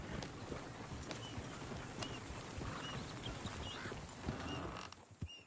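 Faint clip-clop of a horse in Red Dead Redemption 2, soft hoof steps against a hissy outdoor ambience with distant bird calls.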